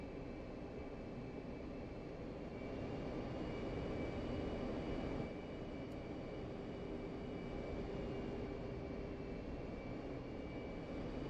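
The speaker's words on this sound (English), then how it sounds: "Was that a C-130?" A C-130 aircraft passes in the DCS World flight game, heard as a steady, broad engine drone that swells slightly midway and stays constant throughout, with no talk.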